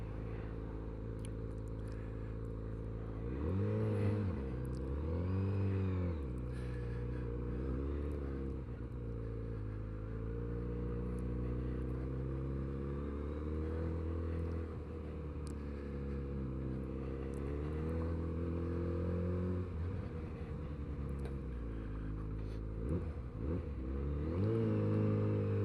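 A Kawasaki Z900RS motorcycle engine revving while riding through traffic, rising and falling in several throttle surges over a steady low exhaust rumble, close and fairly loud throughout, no talking.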